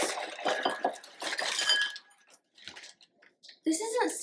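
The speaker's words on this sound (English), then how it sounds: "this isn't cereal. This is silverware." Metal silverware clinks and rattles in bursts, bright jangling strikes with short pauses between, fairly close and loud, with a final clatter at the end.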